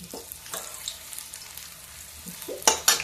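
Leftover fare, steamed rice-flour dumplings made the evening before, being turned and fried in a pan as snacks: soft sizzling under a few scattered utensil scrapes and clinks, with two sharper clatters near the end.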